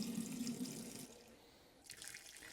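A kitchen tap runs steadily while kombucha bottles are washed under it, a close, continuous hiss of water that drops off briefly and then returns, with no voices.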